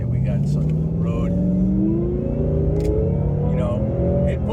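Whipple-supercharged 2018 Ford Mustang accelerating on a road, engine note rising steadily and loud throughout from inside the car.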